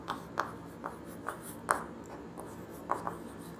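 Writing on a board during a physics lecture, chalk or marker strokes in short scratchy taps, about eight irregular strokes, close and moderately quiet.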